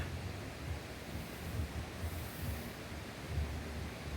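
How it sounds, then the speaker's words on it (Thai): Water rushes steadily in a broad, continuous roar, pouring over a weir on the Wang River at Ban Nong Chok, Thailand, with no voices. "มาฟังเสียงน้ำไหลนะคะ"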